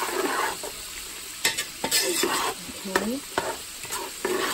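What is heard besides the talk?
stirring melting butter in a pot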